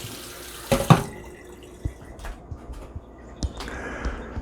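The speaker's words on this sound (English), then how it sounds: "all we want to do is just rinse off any possible dirt that might be on the raspberries" Raspberries rinsed under a running kitchen tap, water splashing and pattering unevenly with a few louder splashes and soft knocks.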